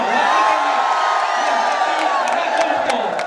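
A large crowd at a hockey championship event roars, whoops and cheers loudly and continuously, a dense wall of voices with a few higher yells poking through.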